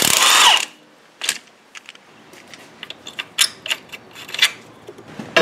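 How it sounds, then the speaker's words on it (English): Cordless power tool working a 13mm bolt off a Ford Focus motor mount: one loud opening burst, then a string of short clicks, ratchet-like ticks and light mechanical knocks, close by and with no talk. "what we're going to do now is take this motor mount off. That's a 13mm right here."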